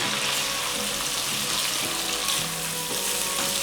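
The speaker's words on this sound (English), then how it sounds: "I am going to keep it 2 more minutes in high flame" Diced onion and tomato sizzle and fry over a high flame for egg do pyaza, a steady close hiss with faint crackles throughout and no talking.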